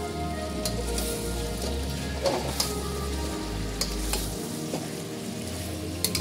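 Chicken is stir-fried with spices in a pan for biryani, a dense close sizzle broken by stirring scrapes and occasional clinks of the spoon against the pan.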